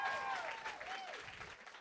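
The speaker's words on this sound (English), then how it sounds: "So give him a round of applause for that." An audience at a book event for author Matthew Thomas claps together, a soft, continuous patter of applause that stays fairly faint and distant throughout the short burst.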